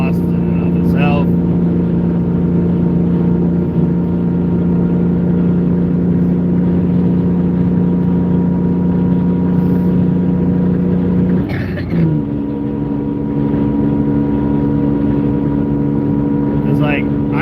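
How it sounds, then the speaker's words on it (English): A loud engine drones steadily with a deep rumbling tone and rattling vibration, shifting pitch briefly partway through before settling back into the same roar. "the worst part, is the vibrations and the rattling and just the exhaust in and of itself"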